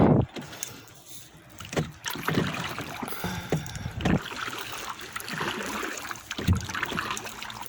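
Kayak paddle strokes on Lake Superior near a rocky shore: rhythmic close splashes and drips every second or so over a soft background of moving water and light wind, no voices.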